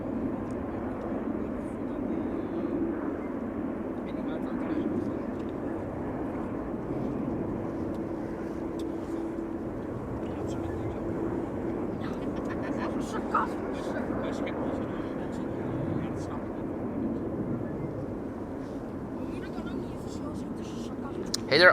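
An Aegean airliner from Athens arriving at Amsterdam Schiphol produces a steady, distant jet roar that holds fairly level across the whole stretch, with faint background noise on top.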